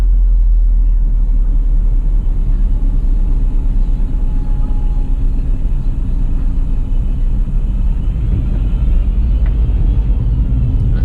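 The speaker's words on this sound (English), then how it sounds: "Yes, there's a lot of traffic today." Inside a bus stuck in heavy road traffic around a Manchester City home match, a steady low engine rumble and road noise hold throughout, loud and unbroken, with no clear voices.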